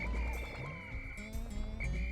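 Croaking frogs in the Pikmin video game, a run of low, repeated game-sound calls layered over steady tonal background music, fairly loud throughout with no talking.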